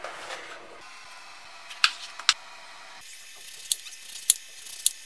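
A knife cuts through eggplant on a board, giving a few sharp, separate chops and taps against a quiet background with no talking.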